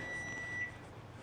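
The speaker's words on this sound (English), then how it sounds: "the timer we've been waiting on" Kitchen timer beeping during pulled pork cooking in a home kitchen, a thin steady high tone sounding for most of the moment before cutting off, faint over low background hum.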